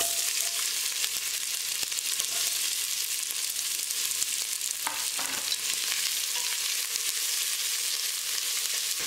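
Two thinly sliced onions sizzle steadily in hot oil in a pan for an egg mandi, with close, continuous frying crackle and occasional stirring scrapes and no voices.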